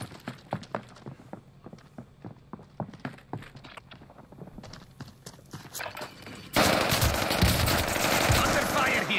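Gunfire in the Call of Duty Warzone video game: a steady run of sharp, evenly spaced shots close by, then a loud, dense burst of firing and noise that swamps everything near the end.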